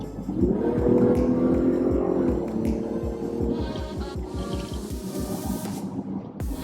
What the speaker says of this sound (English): when you do hear the engine, it gives off quite a nice purr